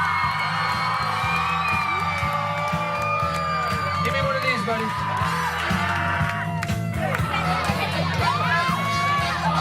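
Guests at a bar mitzvah cheer and whoop while children shout excitedly, a dense, continuous crowd roar close around, with someone speaking briefly through it.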